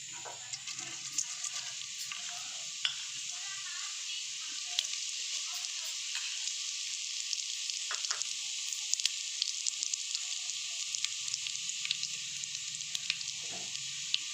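Cumin seeds fry in hot ghee with a steady, fairly quiet hiss and scattered small pops and crackles, close to the pan with no voice.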